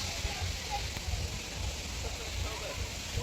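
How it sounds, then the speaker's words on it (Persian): A waterfall's steady broadband rush fills the air, an even hissing wash of falling water with no pauses. "صدای آبشار میاد."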